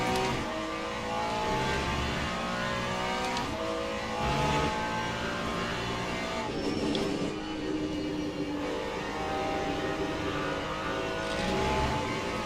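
A Corvette race car engine roars through a Le Mans Ultimate endurance race, a continuous loud drone with revving and pitch shifts, layered over other car noise with no talk.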